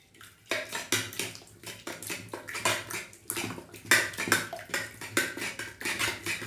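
A metal ladle stirs a pot of fish-head murighonto made with a rohu (katla) head, giving repeated close scraping and clinking strokes against the pot in a steady rhythm, with no talk.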